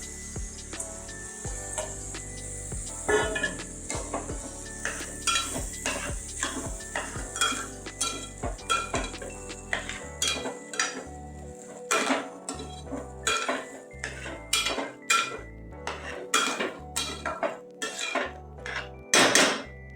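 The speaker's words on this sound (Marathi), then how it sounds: "आता तांदूळ टाकून घेऊया आपण." Washed rice tipped into masala in a metal pot and stirred for Maharashtrian vangi bhat, with repeated scraping and clinking of a spoon against the pot, close and fairly steady.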